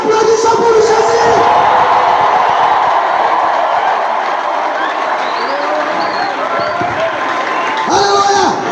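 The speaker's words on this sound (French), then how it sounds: "Applaudissons pour Jésus." A church congregation claps and cheers together for Jesus in a loud, dense wall of crowd noise lasting throughout, with voices shouting and whooping within it.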